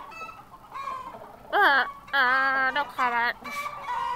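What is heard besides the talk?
chickens clucking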